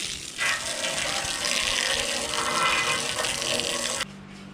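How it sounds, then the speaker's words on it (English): Garden hose spraying water onto a surface, a steady close gushing hiss with no talking that stops abruptly near the end, leaving a faint low hum. "I decided to rinse this off with the hose"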